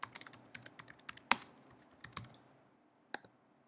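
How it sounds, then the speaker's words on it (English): Light, irregular clicks of typing on a computer keyboard, close and quiet, with a few sharper keystrokes and a brief lull near the end. "I'm going to type in everything again."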